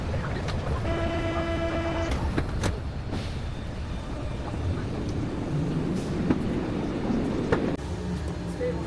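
Paris metro train on the move, a rumbling car interior with rattles, a sustained two-tone signal near the start and scattered clunks and squeals, close and steady throughout.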